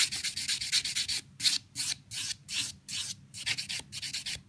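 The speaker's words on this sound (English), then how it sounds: "Making sure that I really concentrate on buffing around this cuticle area down here." A Young Nails 240 sponge buffer rubs across a fingernail around the cuticle in quick, rhythmic back-and-forth strokes, each a close, dry scratchy burst with brief pauses between, and no talking.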